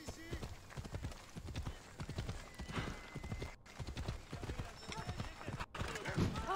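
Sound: horse hooves galloping in video game Assassin's Creed Odyssey

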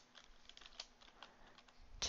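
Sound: typing on a computer keyboard

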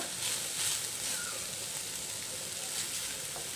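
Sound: vegetables being stir-fried in a pan on high flame

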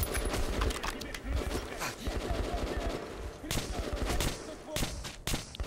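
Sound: pistol gunshots in video game Metro 2033 Redux

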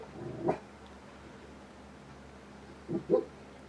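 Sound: dogs barking and whimpering

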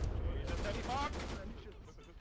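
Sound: gunfire in the video game ARMA 3

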